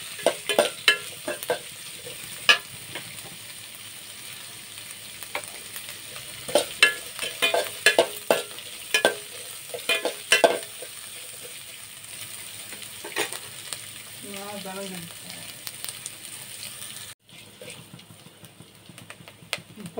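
Curry leaves and green chilies stirred in hot oil for tomato rice, giving a steady close sizzle broken by repeated scraping clicks of a spoon against the pan, with no talk; the sizzle continues after the stirring stops.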